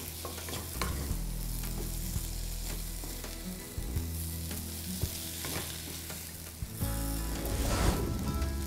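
Aloo methi curry of potato and fenugreek stirred in a hot pan: continuous sizzling with repeated scraping and knocking strokes of a spoon against the pan, close and steady.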